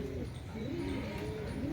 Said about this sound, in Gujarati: જો ઉપર આવ્યું 4 કબૂતર થયા, 5 કબૂતર થયા ટોટલ